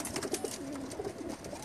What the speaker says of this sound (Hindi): ये कबूतर था जी जो अभी उस्ताद जी दिखा रहे थे।